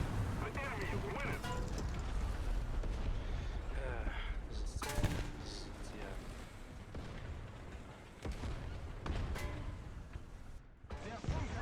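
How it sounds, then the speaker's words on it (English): Dense War Thunder combat gunfire and explosions rattle almost continuously, loud and chaotic, while a player talks excitedly over the din. "I'm getting shot from all over"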